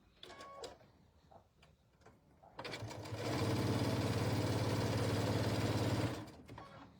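A Q2 sewing machine stitches a quarter-inch seam on a star-spangled table runner, starting after a few seconds and running as a steady loud whir for about three seconds before stopping, with faint talk around it.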